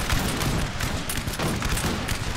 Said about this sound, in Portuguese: Aqui eles estão disparando nos fujões.